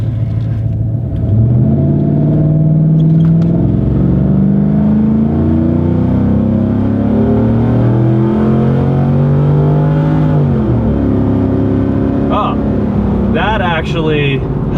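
A 2004 Chevy Silverado pickup with a cam upgrade accelerates hard from a standstill in a 0-60 run, its loud engine rising steadily through the gears with brief dips at each shift.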